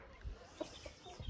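Chickens cluck quietly in short, scattered bursts a few times, faint and close against a hushed background.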